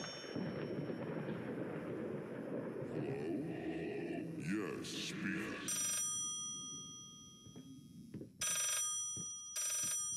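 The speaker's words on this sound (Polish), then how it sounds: "Teraz telefon na dole dzwoni." Telephone bell in the horror video game Layers of Fear ringing from downstairs in separate bright bursts, fairly clear over a rumbling background, with someone talking before it.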